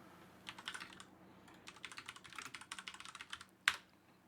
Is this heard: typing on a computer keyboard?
yes